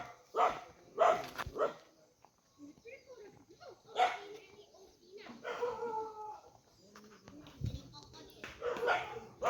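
A dog barks repeatedly outdoors in short bursts with whimpers and yips between them, fairly distant, alongside some talking.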